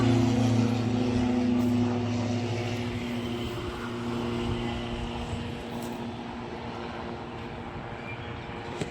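Steady low engine drone of an airplane passing overhead in Mehsana, loud at first and gradually fading a little, with no talking.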